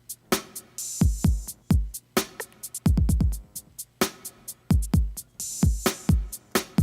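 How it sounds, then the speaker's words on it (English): A programmed drum beat plays alone, punchy kicks and snappy snare hits with crisp hi-hats in a steady, repeating groove, clean and upfront. "here's what the drums sound like on their own"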